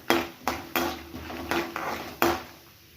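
A spoon clatters against a pan in quick, sharp knocks while chana dal is stirred and fried on low heat for an ellu anna rice dish, about seven distinct strikes close by.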